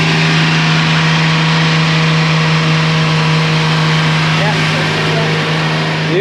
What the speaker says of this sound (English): let's increase our idle just a touch